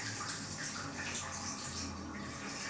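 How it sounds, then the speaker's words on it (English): Water is poured off a batch of soaked soybeans being rinsed for tempeh, making a steady, close splashing gush that runs for a few seconds without pause and has no voices. "So I'm going to pour off this batch."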